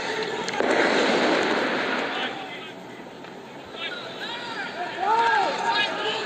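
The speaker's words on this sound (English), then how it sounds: "Massive firecracker going off in the back, just in case you were wondering." A firecracker bursts in the stands at a Jamshedpur versus ATK Mohun Bagan football match, a broad loud crack over constant crowd noise and commentary, with whistling tonal sweeps rising near the end.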